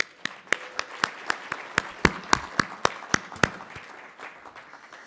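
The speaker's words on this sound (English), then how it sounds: "Please give yourselves a round of applause." A small audience claps at the State of the Region event on the Greater Detroit economy: sparse, uneven hand claps with sharp individual strikes, fairly near, tapering off toward the end.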